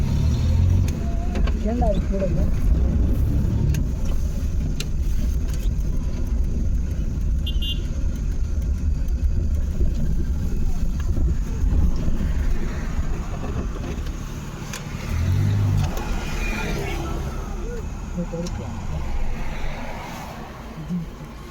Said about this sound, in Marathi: आपण गाडी इथं पार्क करू साईडला, इथे आपण गाडी लावू आणि जाऊ.